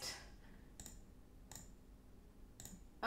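Computer mouse clicks at a desk, three sharp isolated clicks spaced about a second apart, close and quiet against near silence, with a slightly louder click at the end.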